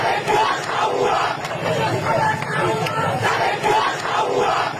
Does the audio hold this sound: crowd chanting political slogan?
yes